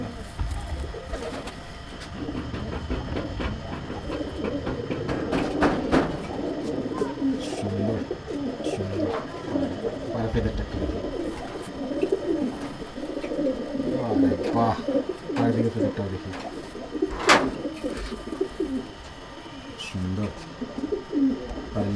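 A Tapan Saha bloodline pigeon kept in a grandfather's loft coos in repeated soft, throaty bursts close by, mixed with other rustling and bird sounds while someone talks over it.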